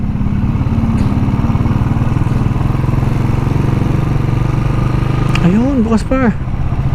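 Several motorcycles idle nearby at a roadside stop in the Philippines, a steady low engine rumble running throughout, with a rider's voice talking over it and a brief rising rev or horn-like tone near the end.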